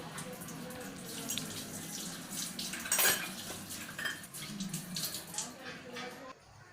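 Steel plates and utensils are washed in a home kitchen, with clinking dishes, clattering cutlery and running tap water over a steady stretch, ending in a fuller clatter, at close range with no talk.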